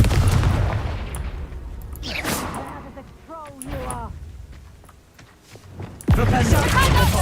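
A fiery Confringo spell blast in Hogwarts Legacy, with a voice shouting spell incantations amid rumbling combat, then a sudden loud close explosion near the end followed by crackling debris.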